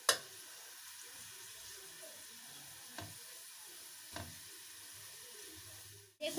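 Prawns fry in a pan with a soft, continuous sizzle. A few light clinks of stirring punctuate it, and a sharper knock comes at the start and end.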